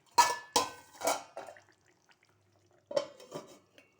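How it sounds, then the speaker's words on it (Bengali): A lid goes onto a cooking pan with a few sharp metallic clanks and rattles close by, then a short pause before another pair of clatters. "এবার ঢাকনাটা দিয়ে দেবো।"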